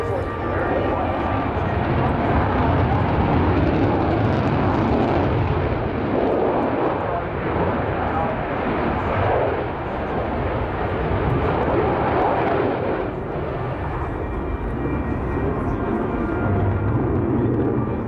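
Lockheed Martin F-22A Raptor jet of the US Air Force demo team roaring through a flying display at an airshow, a loud sustained engine rumble and roar lasting throughout with a slight dip midway, crowd noise and talk faintly beneath.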